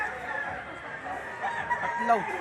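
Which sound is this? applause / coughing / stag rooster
stag rooster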